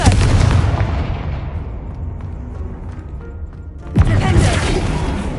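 A Confringo fire spell explosion from the video game Hogwarts Legacy: a loud booming blast that decays over a few seconds, followed by a second sharp burst near the end.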